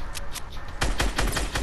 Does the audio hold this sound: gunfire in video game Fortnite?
yes